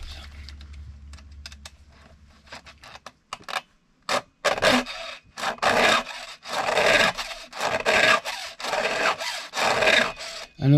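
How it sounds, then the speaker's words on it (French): Saw chain cutters being sharpened by hand with a file, the sides of each tooth worked in repeated rasping strokes that grow loud and close after a quieter start, with no talking. "C'est de limer ces côtés-là."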